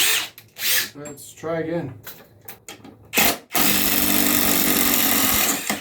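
Cordless drills from brands such as Makita and Ridgid run in a side-by-side comparison, with brief tool bursts and people talking, then a sustained loud, close whirring motor drone.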